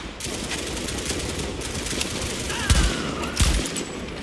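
Bursts of automatic gunfire in The Division, with rapid firing and a couple of sharper, louder hits near the end over steady game ambience.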